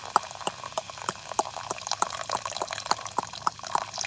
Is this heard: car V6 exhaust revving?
no